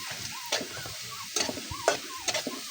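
Mole crickets (kamaru) frying to golden brown for an Ilocano ararawan dish, a steady sizzle broken by sharp spatula scrapes and taps against the pan at irregular intervals, close and with no voices.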